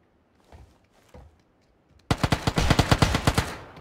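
Video game gunfire bursts in loud and close as a rapid automatic volley of about a dozen evenly spaced shots, after a few faint earlier pops.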